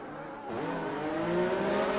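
Formula 1 race cars in a Monaco Grand Prix video game race rev hard, their engine pitch climbing steadily, loud and close, with a second rising engine note joining partway through.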